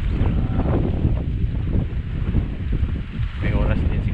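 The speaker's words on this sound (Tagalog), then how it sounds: "makulimlim, tapos malakas ang hangin" Strong wind buffets the microphone outdoors on an overcast afternoon at a wild dove hunting spot, a steady loud rumbling roar with gusts swelling and easing throughout, and no talking.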